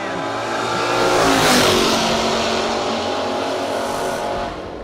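A Mustang and an Oldsmobile launch side by side at a no-box drag racing event. Their engines roar loudly and continuously, swelling to a peak before easing slightly as the cars pull away.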